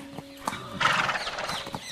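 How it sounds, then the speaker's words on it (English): A horse sound effect: several clip-clop hoof beats followed by a bright, wavering neigh, then more hoof clops, fairly close and alone without any voices. "And please take my finest horse"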